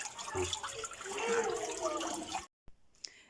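Running water from a water feature on a balcony, a steady splashing flow that fills most of the clip and then stops abruptly, followed by a couple of faint drips.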